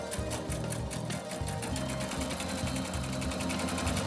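A sewing machine stitches small quilt pieces together along a quarter-inch seam, running in short even bursts with brief pauses between, close and steady with no talk.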